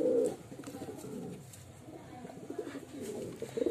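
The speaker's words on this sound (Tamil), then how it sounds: "இது வந்து தவிடால் புறா" Tavidal pigeons coo in soft, low, throaty bursts at the start and end of the short stretch, close by, with quieter murmuring coos in between.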